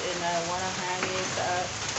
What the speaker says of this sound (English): So there is very heavy rain.